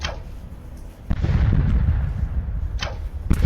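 Rocket launcher fire in a house-building video game, a sharp launch followed by a heavy booming blast and rumbling debris, then another launch whoosh at the end, loud with no talking.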